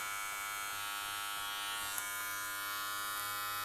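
Electric hair clippers fitted with a number 2 guard run in a steady, close, continuous buzz while cutting hair for a Caesar haircut, alone with no talking.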